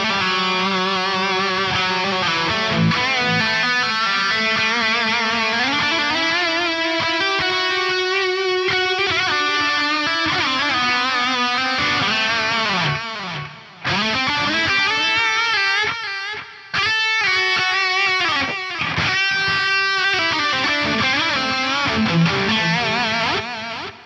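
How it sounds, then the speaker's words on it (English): Distorted electric guitar chords through a diffused delay on a Fractal AM4, echoes blurring and washing into a reverb-like tail, dropping out briefly twice before resuming. "You will hear the echoes get smeared out and kind of melt out into a reverb style sound"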